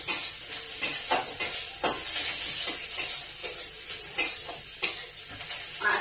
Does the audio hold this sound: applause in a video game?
no